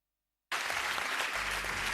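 Applause for guests on a live Italian radio show, Viva Radio 2, breaking out suddenly after a moment of silence and holding as a steady, dense wash of clapping, loud and close.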